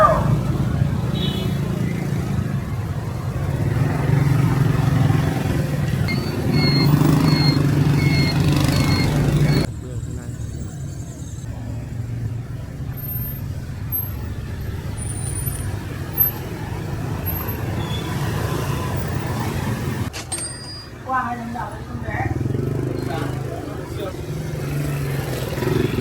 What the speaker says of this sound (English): We walked through the traditional market. It was very crowded with vehicles and people.